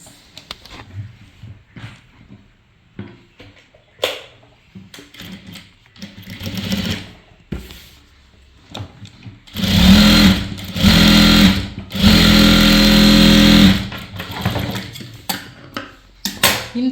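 A sewing machine stitches a chudithar pant, running in several short, loud bursts near the end. Before that come quieter clicks and handling noises.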